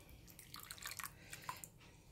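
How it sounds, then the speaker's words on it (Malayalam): Boiling water being poured into a fish curry in a village kitchen, giving soft splashing and trickling pours in short uneven bursts at close range, fairly quiet and free of talk. "ഞാൻ തിളച്ച വെള്ളമാണ് കേട്ടോ ചേർക്കുന്നത്."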